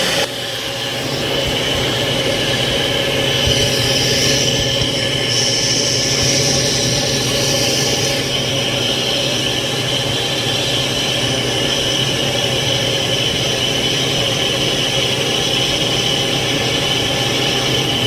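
A blender mixing a green smoothie whirs in a loud, steady, dense roar that holds without break for the whole stretch, no talk.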